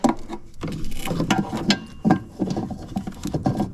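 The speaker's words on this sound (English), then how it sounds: "put it into place, get the catches to go in, turn it clockwise, lock it in," Close, busy plastic clicking and rattling as an LED bulb is seated into a Jeep Gladiator/Wrangler JT-JL headlight housing and twisted clockwise to lock, with a few sharper snaps among shuffling handling noise.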